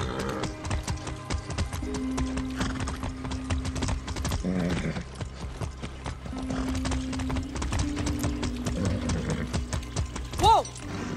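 Hooves of a ridden horse in the video game Far Cry 6 beat in a steady, rhythmic clip-clop close by, with a brief whinny near the end.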